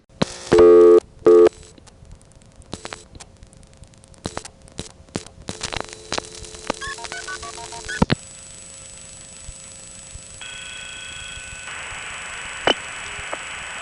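A 1978 Greenville, North Carolina coin phone call carries off-frequency MF signaling tones: two loud tone bursts near the start, then clicks and short beeps, a rapid run of stepped MF tone pairs, and finally a steady tone over line hiss.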